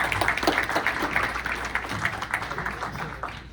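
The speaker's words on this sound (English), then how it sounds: "Everybody give a round of applause" A round of applause from an audience welcoming a guest from the Department of Energy, brisk uneven clapping that holds steady throughout at moderate loudness, with faint murmurs beneath.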